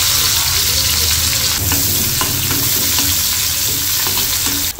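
Cumin, mustard seeds, curry leaves and onion sizzle loudly in a pan, a close, dense crackle with spattering pops and stirring scrapes throughout, cutting off abruptly at the end.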